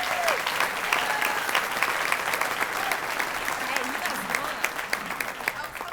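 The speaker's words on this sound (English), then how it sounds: "we're going to give a big round of applause to Amber Farmer" A crowd at a Rooster Booster business breakfast in Owensboro applauds Amber Farmer with a dense, sustained round of clapping that stays steady throughout, with faint voices and calls mixed in.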